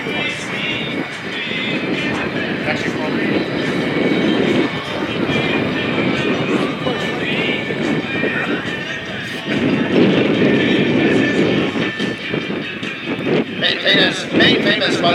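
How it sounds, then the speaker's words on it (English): A MiG-17 jet fighter flying at the Abbotsford International Airshow gives a loud, broad, steady jet roar that swells and fades, with an announcer talking over it. "Watch now as he flies high into the Abbotsford sky"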